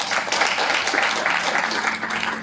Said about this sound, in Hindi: एक बार अपने लिए जोरदार तालियां प्लीज